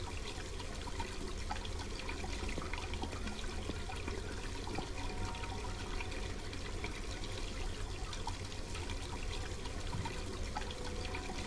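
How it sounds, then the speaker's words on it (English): Continuous running water fills a scene in the Black Mirror 2 adventure game, a steady even wash of pouring, trickling liquid at moderate level with no voices. "The water is boiling hot."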